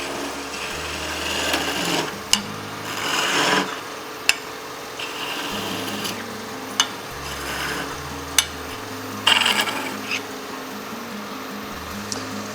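Wood being hand-sanded with a steady back-and-forth rasping in uneven strokes, close and moderately loud, broken by a few sharp knocks and taps.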